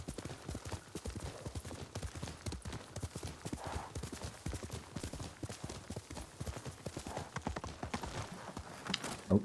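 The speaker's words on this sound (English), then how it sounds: "Good horse, Noble." A horse gallops in Ghost of Tsushima, rapid rhythmic hoofbeats drumming steadily and close for the whole stretch, with a faint game soundscape underneath.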